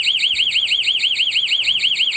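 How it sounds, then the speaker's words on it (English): The external siren of a home intruder alarm wails with a fast warbling electronic tone. It rings steadily and loudly, with a faint low hum underneath. "The external siren's ringing outside."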